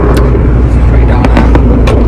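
Inside a Ford Fiesta Zetec-S on the move, a loud, close, steady road and engine rumble fills the cabin, with the car's exhaust rattling and a few short knocks on top.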